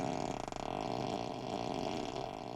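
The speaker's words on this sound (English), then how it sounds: "when someone sits on it, as you can hear, it makes a farting sound." A wet, bubbly farting sound effect played from a Tesla Model 3's seat novelty feature, gurgling continuously for a couple of seconds at moderate volume.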